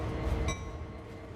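A locomotive in Train Sim World 2 rolls along with a steady low rumble and faint metallic clinks and a thin tonal whine from the rails, with no voices.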